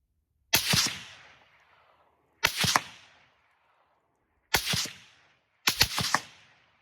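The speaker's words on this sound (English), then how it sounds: "here goes my rifle suppressed." A suppressed rifle fires four times, each a sharp crack followed by a dull thump as the round hits a distant hillside, spaced roughly two seconds apart outdoors.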